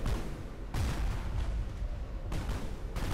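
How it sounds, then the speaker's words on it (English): Meteors batter and blow apart the escape shuttle in the space station game Space Station 13, a dense rumbling barrage with heavy booming impacts that swell at about three-quarters of a second and again near two and a half seconds, with no talk. "Even the arrival shuttle, the escape shuttle, is exploding, being rattled by the massive meteors."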